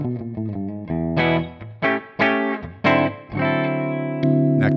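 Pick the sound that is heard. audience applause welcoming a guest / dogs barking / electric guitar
electric guitar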